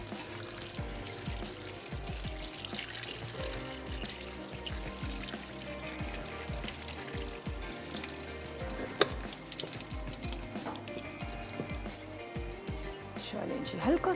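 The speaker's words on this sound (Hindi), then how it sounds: "थोड़ा सा ठंडा पानी गुजार लेते हैं।" Cold tap water poured through cooked pasta in a kitchen strainer, a steady splashing stream with scattered clinks, heard under a voice.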